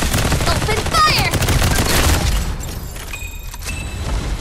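Gunfire in the shooter game Farlight 84 comes as dense bursts of rapid automatic shots with booms and mechanical clicks, loud and continuous for a few seconds before easing off.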